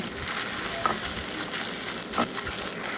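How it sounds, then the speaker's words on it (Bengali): Onion, ginger and garlic frying in a pan over a fire stove, a steady close sizzle with occasional stirring scrapes throughout. "এখন পেঁয়াজ ভাজা হচ্ছে।"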